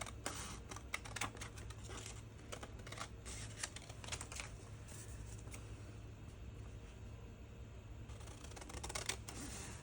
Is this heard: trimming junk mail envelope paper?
yes